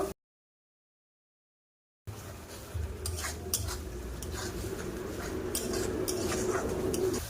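Ground chilli, coriander, mustard paste and cumin paste being stirred together in a pan for a prawn dish, making scraping utensil sounds against the pan after a brief silence, with faint bird coos in the background.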